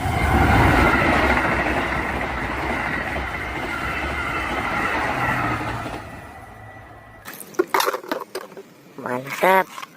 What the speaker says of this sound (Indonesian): kereta cepat